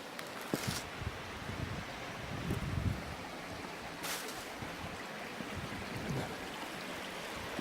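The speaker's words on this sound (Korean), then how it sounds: "폭포 소리는 들리는데 폭포가 안 보이네" Steady broadband rush of a waterfall in Ssanggok Valley, a continuous hiss heard from a distance with occasional faint bumps, no voices.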